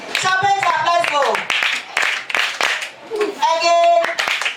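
Group of kids at a reading marathon doing a patterned rhythmic clap, several sharp close claps in a steady beat, with voices talking before and after the claps.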